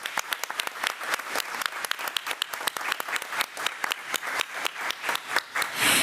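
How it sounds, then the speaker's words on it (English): A small audience at a county committee meeting applauds, with clear individual hand claps in a quick, fairly regular rhythm. The clapping is close and moderately loud and swells into a fuller burst at the end. "Let's give him another round of applause."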